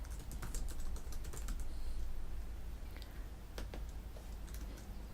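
Soft keyboard typing with scattered clicks over a steady low hum, the keystrokes faint and irregular in short bursts, no voice.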